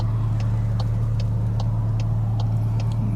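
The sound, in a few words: Milltek race exhaust on an MK8 VW GTI, windows up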